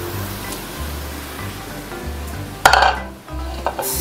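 Vegetables being stir-fried for seafood chow mein with fried tofu: a steady scraping stir in a hot pan with a soft sizzle, one sharper clatter of utensil on pan midway, no talking.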